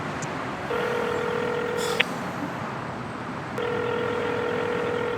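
A phone rings unanswered in two long electronic trills separated by a pause, sounding over a steady background rumble.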